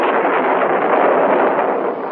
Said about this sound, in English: For the sound you just heard was the cry of the priests of Kali.